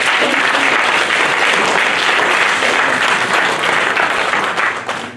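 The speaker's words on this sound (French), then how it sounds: "On va acclamer le couple ce matin." A church congregation bursts into loud, sustained applause for a couple during a Sunday service, many hands clapping in a thick, continuous wash that tapers slightly at the end.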